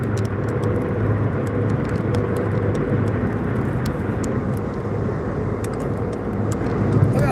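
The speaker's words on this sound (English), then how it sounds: "Look how dangerous this semi-truck is right here." A semi-truck driving on a road gives a steady, loud broadband rumble of engine and tire roar that holds evenly throughout with no talk.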